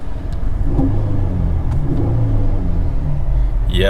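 A Ford Taurus SHO engine idles just after its fuel pump module was repaired, a loud, close, steady low rumble with a rough, even note throughout.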